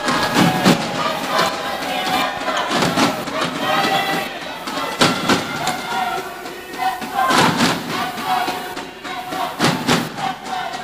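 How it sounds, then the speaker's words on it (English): Crowd cheering and shouting at the All Africa Senior Badminton Championship 2022 final, Egypt vs Algeria, loud and sustained with repeated surging bursts and thuds over a constant roar. "the crowd has just gone crazy because the young Ugandans are just turning the tables upside down"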